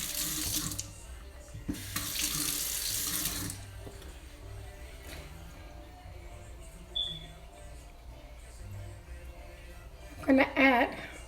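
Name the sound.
rinsing under a running kitchen sink tap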